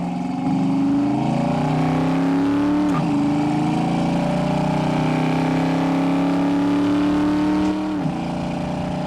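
A 1972 Dodge Challenger accelerates on the road, its engine droning steadily and rising in pitch, with a brief dip and climb around each gear change, loud and close throughout with no talk.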